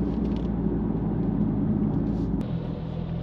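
A Jaguar XE S (X760) cruising on a dual carriageway gives a steady, loud low engine and road rumble throughout, easing slightly near the end, with no talk.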